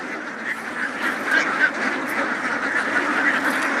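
Farm ducks being fed corn quack and honk together in a continuous, close chorus, loud and busy throughout without any speech.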